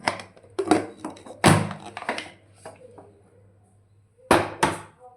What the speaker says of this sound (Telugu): కుక్కర్ మూత పెట్టేసుకుందాం